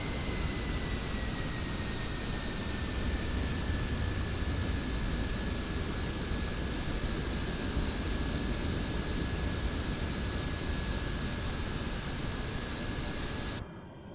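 Airliner engines winding down in Microsoft Flight Simulator 2024 on a flight from Portland to Klamath Falls: a steady broadband roar with a slowly falling whine, constant and moderately loud until it cuts off at the very end.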